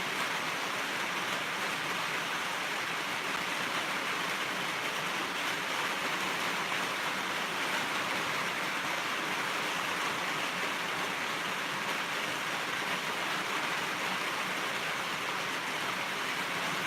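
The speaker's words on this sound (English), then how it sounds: "It's pouring rain, actually." Heavy rain pours down in a dense, steady hiss, loud and unbroken from start to finish, with no voices.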